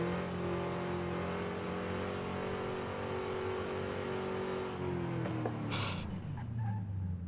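A car engine revving hard above 5,000 RPM, heard from inside the car as a loud sustained drone with a steady pitch that shifts and drops near the end.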